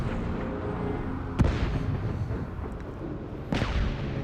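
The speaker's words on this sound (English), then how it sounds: "Lots of explosions as usual" Two heavy booming blasts from explosions in the Batman Arkham Underworld video game, each a sharp broadband burst over a dense, rumbling battle din that runs the whole time.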